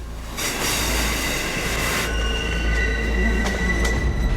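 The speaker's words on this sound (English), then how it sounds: "They were straight onto a steam train when it pulled into the station" A steam train pulls into a railway station near Toowoomba, with a loud, continuous rumble of rolling wagons and high wheel squeals rising over the noise.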